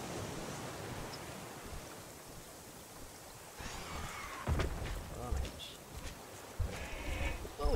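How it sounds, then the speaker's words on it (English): Boar in the survival video game Raft grunting and squealing in rough bursts that grow louder and more frequent in the second half, over a steady noisy ambient bed. "Oh, I see the boar."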